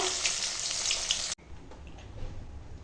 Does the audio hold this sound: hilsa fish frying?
yes